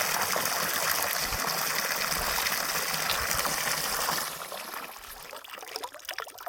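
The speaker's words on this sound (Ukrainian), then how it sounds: "А тут у нас отака колобатина тепер тече." Muddy, rusty water runs from a tap at an old village house, a steady, close gush that drops to a quieter trickle partway through.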